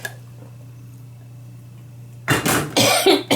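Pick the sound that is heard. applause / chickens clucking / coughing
coughing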